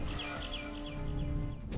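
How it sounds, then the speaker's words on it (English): An angry bird in the Garten of Banban video game chirps in quick repeated, fairly faint bursts over a steady droning background. "Oh, that bird is mad."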